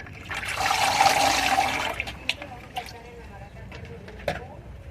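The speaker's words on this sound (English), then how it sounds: "The last step for this little build will be to fill it up with water." Water gushes and splashes into a small newly built mini pond with a Montezuma cypress, a loud pour for about two seconds that thins to trickles and drips as a person talks.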